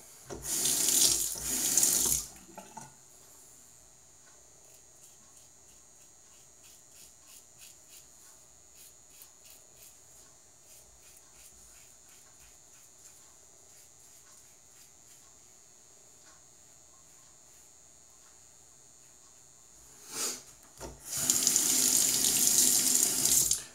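Tap water runs loudly at the start and again near the end while a razor is rinsed during a wet shave with Wild West Shaving Company Outlaw soap, with quieter faint trickling in between.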